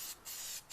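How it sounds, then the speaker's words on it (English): Two short hissing bursts from an Untouchable aerosol tire dressing can being sprayed onto a tire, quiet and close, with a brief pause between them. "It's an aerosol can, and when I first tried it, all I did was just spray it."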